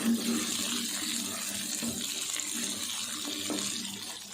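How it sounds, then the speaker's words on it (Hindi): Okra (bhindi) frying in half a cup of ghee: a steady, even sizzling hiss, moderately loud and continuous throughout, with no talking. "अब इसमें भिंडी फ्राई कर लेंगे। आधा किलो भिंडी है।"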